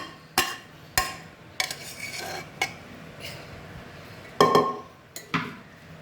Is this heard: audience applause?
no